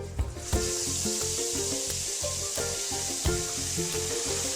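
Spice paste hitting hot oil with curry leaves for a masoor dal tempering (vaghar): a loud, steady sizzle with occasional sharp clinks and scrapes of stirring in the pan.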